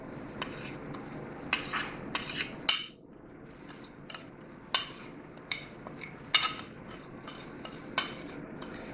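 A spoon scrapes and clinks against a bowl as spices are mixed into skinless chicken pieces for a marinade. The knocks and scrapes are close and irregular, one sharp clank stands out, and no voice is heard.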